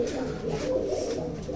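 Pigeons from a collection of well-kept birds in Bangalore give soft, throaty coos. The low cooing is continuous and fairly faint, heard at close range with no speech.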